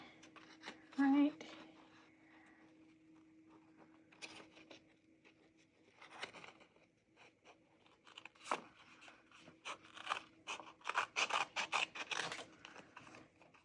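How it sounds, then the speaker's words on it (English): Scissors snip through cereal box cardboard to shape small junk journal tags, giving scattered crunchy cuts and scraping rustles, some bursts sharper and louder than others, with a steady hum underneath and talk heard early on. "All right, let's go ahead and cut."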